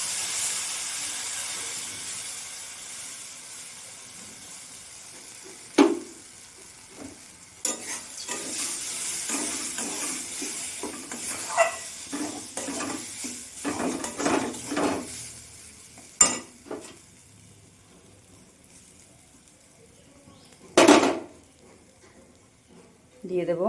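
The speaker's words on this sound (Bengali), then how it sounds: "বেটে রাখা ডালটা আমি দিয়ে দেব।" Ground chana dal batter frying in a pan of hot oil for Bengali dal fritters, giving a steady soft sizzle with stirring and a few sharp clinks of utensils against the pan, while a person talks over it.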